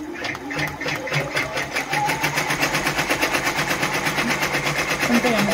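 A Brother PR1055X ten-needle embroidery machine stitches onto a premade bib in a 4.25 hoop, giving a fast, steady mechanical rattle with a regular pulsing rhythm, close and fairly loud, with no voices.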